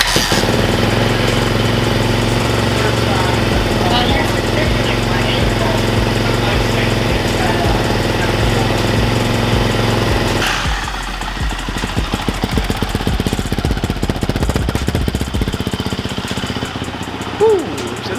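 An 2018 Yamaha YZ250X dirt bike engine runs steadily nearby for about ten seconds, then cuts to a rougher, sputtering idle with clattering, while a person talks over it.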